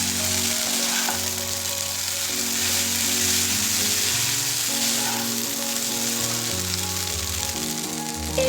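Vegetarian chowmein noodles fry on high flame in a pan, giving a steady, loud sizzle throughout, with background music playing underneath.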